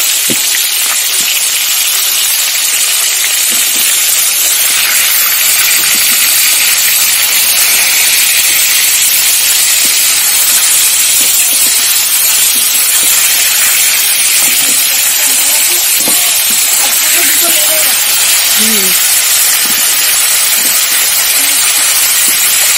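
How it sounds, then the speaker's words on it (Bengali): Steady sizzling hiss of tengra fish frying in hot oil fills the whole stretch, with faint clinks and a quiet voice now and then underneath. "মাছটাও ভাজা হচ্ছে"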